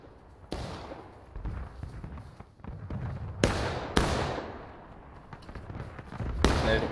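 Musket volleys crack out during a skirmish in the Civil War video game War of Rights, a string of sharp, loud reports scattered unevenly across the clip with rumbling echoes and background ambience between them.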